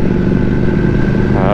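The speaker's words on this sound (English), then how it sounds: "them throttle blips are life" A Ducati Panigale V4S motorcycle engine rumbles steadily at close range, loud and continuous, with no distinct revs standing out.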